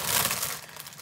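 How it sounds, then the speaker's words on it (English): Plastic bag of baby leaf salad crinkling, a brief, fairly quiet rustle of crumpled plastic with no voices. "a baby leaf salad in a plastic bag"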